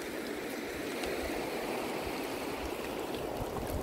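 A river running high after heavy rain and some snow, giving a steady, loud rushing wash of water with no other sounds standing out.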